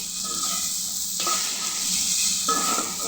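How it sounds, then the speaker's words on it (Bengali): Dried fish (shutki) frying in a pan, giving a steady broadband sizzle throughout with occasional louder stirring scrapes, close and continuous with no talking. "এই যে শুটকি লাগা প্রায় হয়েই গেছে, আর একটু ভাজতে হবে"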